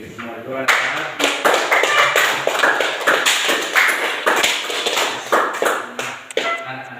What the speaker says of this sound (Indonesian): Tepuk tangan untuk semua dulu anak-anak.